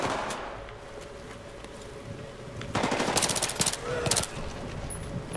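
Rapid automatic gunfire in a Battlefield 3 urban battle, a steady rattle that swells into louder, denser bursts midway with sharp cracks, set against constant battlefield noise.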